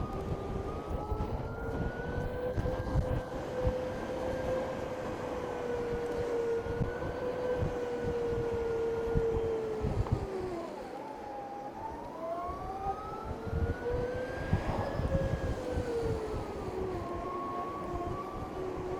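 A BMW CE 02 electric scooter's steady motor whine rises and falls in pitch over a continuous rushing hum, loud and close, with no one speaking.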